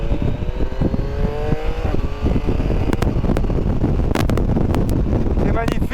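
A Yamaha Tracer 9 GT+ motorcycle pulls away in second gear, its engine note rising under heavy wind buffeting on the microphone, with someone talking over it throughout.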